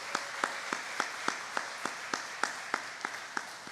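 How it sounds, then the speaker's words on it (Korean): Church congregation at a Wednesday worship service claps together in a regular, even beat, about three claps per second, close and sustained over a soft background wash of applause. "선교사님 환영하는 마음으로 먼저 박수 한번 하겠습니다"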